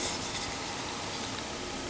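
The back of a bamboo hitoyogiri flute is being smoothed, producing a steady, soft rubbing and rasping texture, close and continuous without talk.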